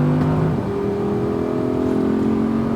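An Audi R8 V10 rear-wheel-drive car on the Speed Vegas track gives a steady, loud, close engine drone as it pulls under power. The tone is humming and rises slightly, with no voices.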